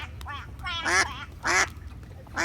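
A group of people walking together while imitating ducks, giving out several loud nasal quacks in short bursts with brief pauses between them.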